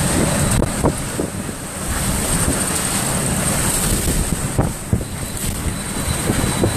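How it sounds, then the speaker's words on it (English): Strong hurricane wind from Hurricane Michael roaring continuously at Panama City, a loud broadband gusting rush with buffeting on the microphone, swelling in waves throughout with no voices. "Another gust."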